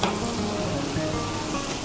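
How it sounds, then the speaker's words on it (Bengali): Coconut pieces frying together with a cooked-down spice paste for a prawn and sola kochu curry, a steady close sizzle running evenly for a couple of seconds with no voices. "নারকেলের টুকরোগুলোকেও মশলার সঙ্গে মিশিয়ে একটু ভেজে নেব"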